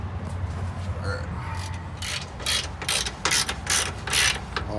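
A hand ratchet clicks in quick bursts while the subframe bolts come off a 2009 Chevrolet Cobalt SS during a turbo install, sharp close clicking over a low background hum with some talk.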